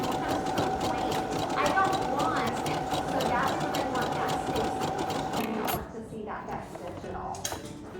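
An overlock serger runs steadily, stitching and trimming a fabric edge for a sweater with a continuous loud mechanical whir, with talk over it, easing off near the end.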